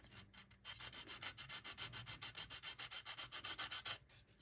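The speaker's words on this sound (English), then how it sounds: "So now what I'm going to do is kind of sand what I normally do. Kind of sand that off." Steady back-and-forth sanding scrapes across the glossy clear-coated base of a Ford F-350 dually part, a fast run of rhythmic rubbing strokes heard up close and alone.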